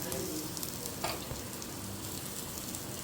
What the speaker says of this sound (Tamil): தாளிப்போம். இந்த வெங்காயம் இப்படி நல்லா ஆகணும் பாருங்கள்.